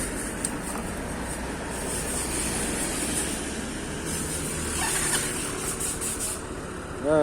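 A car engine runs at a steady idle, giving an even, continuous rumble and whir throughout, with a louder bump right at the end.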